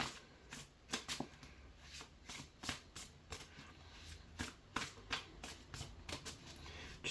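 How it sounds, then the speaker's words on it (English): Tarot cards are shuffled by hand in a steady run of soft riffling and slapping bursts, close and fairly quiet, with no talking. "Just takes me a while to get used to how the cards shuffle."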